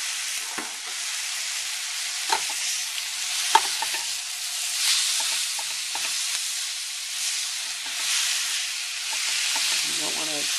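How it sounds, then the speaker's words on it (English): Cooked spaghetti squash sautéing in butter produces a constant hissing sizzle in the pan, broken by scraping stirs and small clicks of a utensil. "You're just going to saute it to kind of give it that a little more of the butter flavor."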